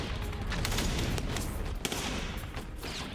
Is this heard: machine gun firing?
yes